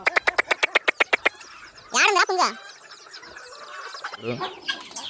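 Several hens cluck in quick bursts, with a louder squawking call in the middle and softer clucks toward the end, close by.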